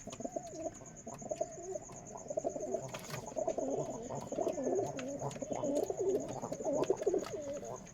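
Repeated throaty cooing from nearby pigeons sold as Rajshahi Giribaz birds, soft rolling calls running through the whole stretch over a faint steady high whine, with occasional clicks and no clear talk.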